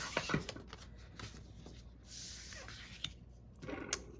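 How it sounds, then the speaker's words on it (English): Folded Early Espresso cardstock card base being creased with a bone folder, heard as soft, close, quiet scraping and rubbing strokes in short bursts, with a few light taps between them. "We're gonna fold it over, use our bone folder to crease it."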